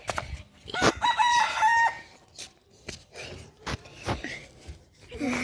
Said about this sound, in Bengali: ওই দেখেন মুরগিগুলো ট্রেনের উপর উঠে আছে